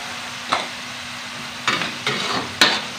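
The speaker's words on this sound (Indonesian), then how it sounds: "Kita goreng dulu bumbunya sampai matang." Blended spice paste fries in a pan with a steady close sizzle, broken by several sharp scraping stir strokes.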